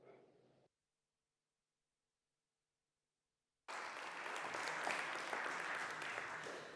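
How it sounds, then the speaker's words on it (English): Audience applause after a parliamentary speech, a brief snippet, then silence, then a full burst of loud, sustained clapping from a large crowd. "Thanks for the applause."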